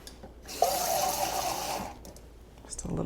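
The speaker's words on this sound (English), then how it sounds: "Just a little bit of water to swish out the can." Water swishes and pours inside an evaporated milk can for about a second and a half, a close, steady liquid rush while making a breakfast bake.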